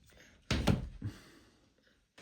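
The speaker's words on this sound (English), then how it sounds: "Oh, you're closing the door on your sister in the oven?" A toy oven door shuts with a sharp double clack and a softer thump just after, quiet and close in an otherwise hushed room.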